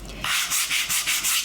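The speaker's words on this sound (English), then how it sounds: "use your sanding block as one of your painting tools to help blend" A sanding block rubs back and forth over a painted wooden sled, about six quick, even strokes in a steady rasping rhythm, close and clear with no voices.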